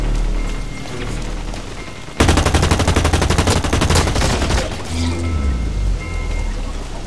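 Loud, rapid automatic gunfire with heavy recoil in the shooter game Blacklight: Retribution, a sustained burst of evenly spaced close shots lasting several seconds, preceded and followed by game ambience and some background noise.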